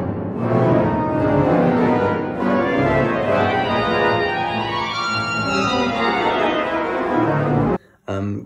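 Modern pipe organ improvisation with mutation stops: a loud, dense, dissonant sustained chord texture rolls on continuously, then cuts off briefly near the end with a short return.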